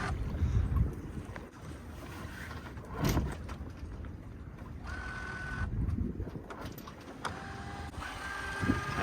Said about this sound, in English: we got a little bit of swell flapping the sails around